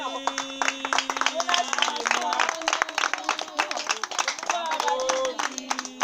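An audience claps in a lively patter of many hands close by, with voices and singing-like tones running over the applause throughout.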